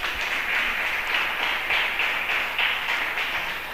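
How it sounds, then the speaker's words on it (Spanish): Applause for the Lord from a church congregation, a steady wash of many hands clapping at a moderate distance that continues without a break. "Le da un aplauso al Señor en esta noche."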